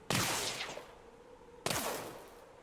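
Pulse ray towers and blast cannons firing in the tower defense game Axon TD: Uprising, two loud explosive bursts a moment apart, each with a sharp crack trailing off into a rumbling decay, no voices.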